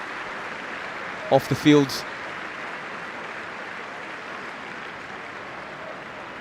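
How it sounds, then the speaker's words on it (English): Stadium crowd at a Czechia versus Scotland Under-21 European qualifier applauds an injured Scotland goalkeeper, a steady, distant wash of clapping that runs throughout, with a commentator speaking briefly near the start. "The City Stadium applauds the Scotland #1"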